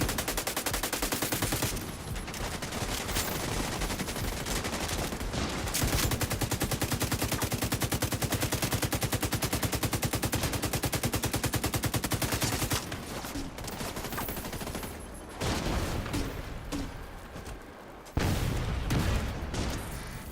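A turret loaded with special ammo fires in The Division 2, a loud, continuous automatic barrage of rapid gunshots lasting many seconds, with brief breaks near the end.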